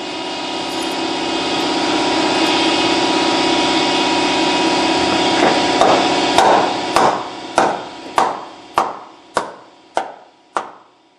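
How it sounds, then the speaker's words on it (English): A steady mechanical hum fades, then about ten sharp metallic brass hammer taps on the front wheel hub of a 2003 GMC Jimmy ring out at an even pace, each followed by a brief decay. "a brass hammer is what I like to use, and tap that back in to break that free"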